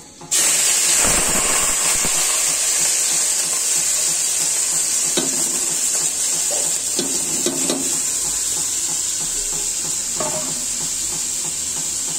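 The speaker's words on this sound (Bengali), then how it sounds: "দেখুন আমার জিরাটা ভাজা হয়ে গিয়েছে, ডালটা অ্যাড করে দিচ্ছি।" Masoor lentils hit fried cumin in a hot pan, setting off a loud steady sizzling hiss that runs on without a break, with faint stirring scrapes underneath and no one speaking.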